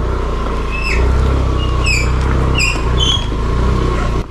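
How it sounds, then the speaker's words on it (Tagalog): Motorcycle brakes squeal in several shrill, high-pitched bursts over a steady, rumbling engine and road noise. "Narinig nyo ba yun? Maingay na yung preno ko."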